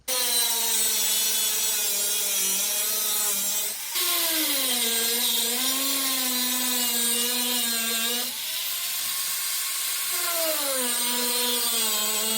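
Rotary cutting tool slicing through a Toyota Tacoma bumper, a loud continuous whine whose pitch drops and recovers several times as the blade loads up, running throughout without talk.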